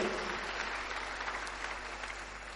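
A church congregation claps during worship, a dense, fairly even spatter of applause sustained throughout under a low steady hum.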